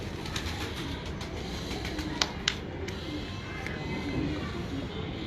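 Pigeons coo softly amid a noisy outdoor background, with a couple of sharp taps and light rustling, the cooing low and muffled.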